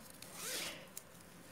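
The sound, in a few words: zipper on a handmade bag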